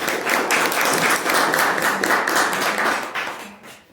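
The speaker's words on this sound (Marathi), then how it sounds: "आपणही टाळ्या वाजवून त्यांचं एकदा स्वागत करूया।" An audience at a one-day national conference claps to welcome a guest. The applause is dense, steady and close, then fades out near the end, with no one talking over it.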